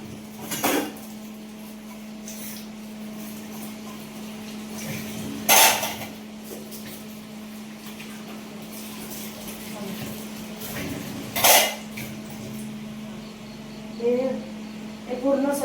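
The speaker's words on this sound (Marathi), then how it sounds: "हे पेले एवढेशे राहिले ते धुते आता मी" Steel glasses and dishes are washed by hand, with occasional sharp metallic clinks and clatters standing out over a steady background hum.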